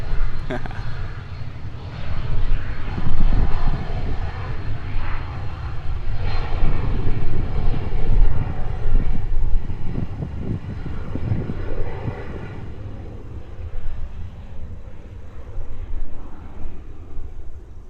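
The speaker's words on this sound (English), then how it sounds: "Let's watch the Cessna citation heading off to Melbourne." A Cessna Citation business jet departs Gold Coast Airport, a steady broadband engine roar that swells and holds at moderate distance throughout, with a person talking over it.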